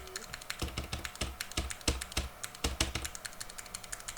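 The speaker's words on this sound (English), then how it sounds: "I do have my own mini mechanical keyboard" Clicky keystrokes on a mini mechanical keyboard, a quick uneven run of close, crisp taps that keeps going steadily with no talking.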